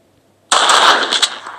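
Video game gunfire fired by accident cuts in suddenly after a short silence: a loud, close burst of rapid shots that rattles on for about a second before tailing off.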